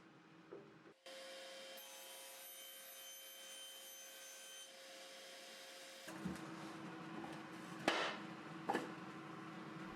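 Power saw cutting down a sheet of plywood for a base, a steady whining cut with a constant tone running for several seconds, followed by clattering wood knocks as the pieces are handled.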